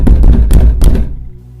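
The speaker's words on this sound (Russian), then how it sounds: "Стук повторился." Three heavy, booming knocks on a door in a horror story, loud and close, spaced unevenly, then a short fading silence.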